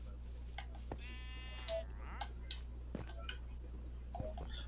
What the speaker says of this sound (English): let's go visit Mr. Sheep over here